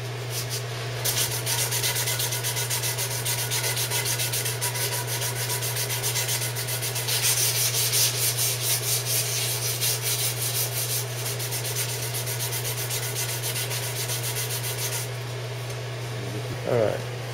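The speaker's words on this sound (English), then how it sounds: "Take a little piece of sandpaper here." A small piece of sandpaper rubs back and forth on a guitar part, a continuous close scratching over a steady low electrical hum, lasting many seconds.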